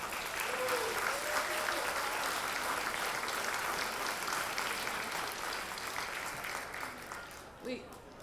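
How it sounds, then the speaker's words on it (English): Audience applause at a college longhouse twentieth anniversary event, a long steady wash of clapping from a crowd that tapers off toward the end, with some voices mixed in underneath. "We just would like to give them a round of applause and our thanks."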